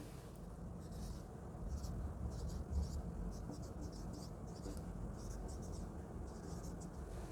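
Pen or marker scratches out a line of writing for a physics equations lesson, a soft repeated scraping under a steady low background hum, faint and close.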